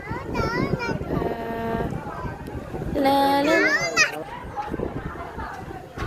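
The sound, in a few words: people shouting by the Ganges river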